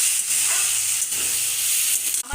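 Tomatoes fry in a pan as a loud, steady hissing sizzle that stays close and continuous, dropping off briefly just before the end.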